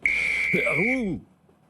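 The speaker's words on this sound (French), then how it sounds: "On est hors jeu, l'arbitre nous siffle." A referee's whistle sounds one long, loud, steady blast lasting about a second, with other sounds sweeping briefly beneath it, then it cuts off into quiet.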